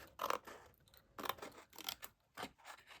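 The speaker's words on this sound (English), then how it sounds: "So I'm going to cut it with my scissors." Scissors cutting through folded cardstock along a score line for a fold-up Easter basket craft, several close, crisp snips spaced about a second apart with soft rubbing of the paper between them.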